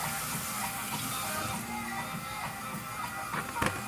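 A green pepper gets rinsed under running tap water, a steady splashing hiss with a few brief clatters near the end and no talk.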